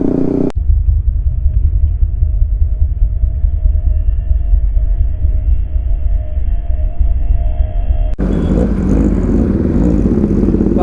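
A motorcycle engine runs with a steady, heavy low rumble, loud and continuous throughout, with no voices.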